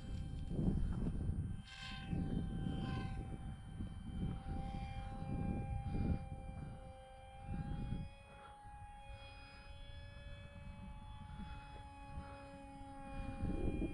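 A Hobby King Skipper RC model airplane flies at an outdoor flying field, its small engine giving a steady droning whine with tonal harmonics, wavering slightly in pitch as it passes, heard continuously throughout.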